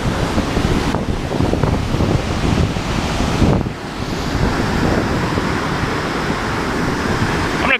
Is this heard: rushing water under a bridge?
yes